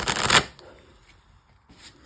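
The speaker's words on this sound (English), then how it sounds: "So I apologize for my bad shuffling skills." Tarot cards are riffled and shuffled by hand in a quick burst of flapping, papery clicks, followed by a quieter pause and a second short riffle near the end, with a faint voice in the background.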